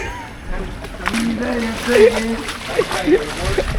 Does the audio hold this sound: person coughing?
no